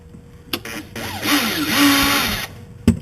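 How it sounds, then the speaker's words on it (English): A power drill runs briefly, boring a hole into plastic while a console is being installed; a short whirring burst rises and falls, framed by faint clicks and handling knocks. "I'm going to go ahead and drill a hole."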